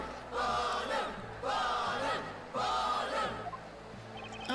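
An excited courtroom crowd in the Professor Layton vs. Phoenix Wright video game shouts and cheers in three loud rising waves, a dense mass of voices with short pauses between each swell.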